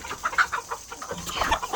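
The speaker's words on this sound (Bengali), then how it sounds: "এই যে আমাদের মুরগিগুলো মার্শাল্লাহ" Chickens clucking on a rooftop farm, a run of short, close clucks and soft calls in an uneven rhythm with no talk over them.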